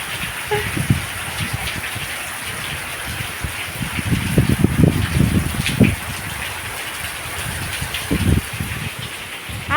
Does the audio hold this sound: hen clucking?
no